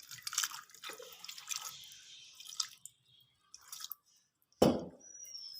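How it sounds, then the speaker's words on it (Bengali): Water is poured into a pot of jackfruit seasoned with a little turmeric before boiling, heard as soft drips and splashes followed by one sudden loud pour or splash near the end. "জল দিচ্ছি।"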